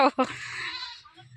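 A short wavering goat bleat, nearby and clear, trailing off quickly.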